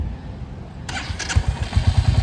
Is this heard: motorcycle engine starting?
yes